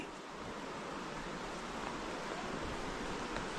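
The Tad Yai waterfall at Nam Nao makes a steady, broadband rush that stays even throughout, soft and somewhat distant, with no voices.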